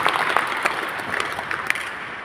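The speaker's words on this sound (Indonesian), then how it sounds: "Tepuk tangan buat kita semua." Applause from a group of trainees in a facilitator training class, a short burst of scattered claps filling the room and continuing evenly over a couple of seconds.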